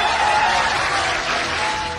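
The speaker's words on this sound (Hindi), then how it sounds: "आप दिल से बजा दे तालियां" Thick, continuous applause from a seated audience at a business talk, loud and close, filling the whole two seconds without a break.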